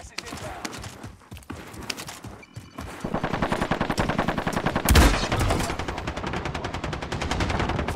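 Warzone gunfire with rapid automatic bursts that grow dense and loud midway, a sharp close burst around the middle, continuing under game noise with talk.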